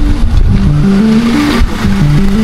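A car engine drones and revs up and down near the microphone as Carla starts driving, a loud wavering hum with rising and falling pitch and some road rumble, with no voices.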